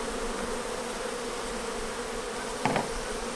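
Honey bees buzzing around an open hive, a steady close drone of many wings with one louder bee passing near the microphone.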